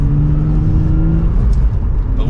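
A 2023 Nissan Z sports car pulls away under mild acceleration, its engine a steady low hum and drone heard from close by, with no sharp revving.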